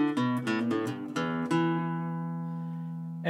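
A guitar plays a short blues melody phrase: a few quick plucked notes and hammer-ons, then a final note left ringing and slowly fading, with no talking.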